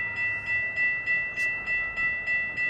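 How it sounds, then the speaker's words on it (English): A train approaches a crossing on a windy day, heard as a steady high tonal ringing, likely crossing bells, pulsing about four times a second over a broad low rumble that builds gently, with no talking. "here comes the train"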